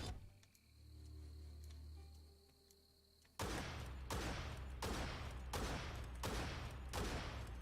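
Rapid bursts of gunfire from a mount's gun in Biomutant, roughly five loud repeated volleys close up in a steady rhythm, following a quieter stretch of low droning game ambience.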